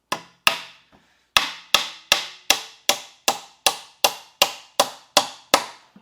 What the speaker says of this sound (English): we're going to take these bigger 3 1/4 inch nails again and drive them down into the top of the 4x4